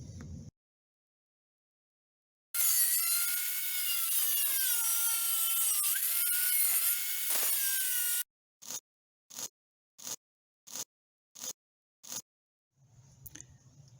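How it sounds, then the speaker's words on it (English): Die grinder fitted with a new cutting wheel slicing steel trailer frame pieces, a loud sustained high-pitched whine for several seconds, then a run of short evenly spaced bursts. "Got my handy dandy die grinder here with a nice new wheel. So it's time to get cutting."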